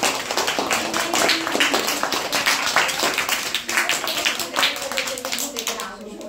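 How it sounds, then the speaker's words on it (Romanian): A classroom of young pupils claps together for a classmate on the first day of school, a dense, steady patter of many small hands with chatter and voices running underneath. "Hai să-l aplaudăm pe Mihai."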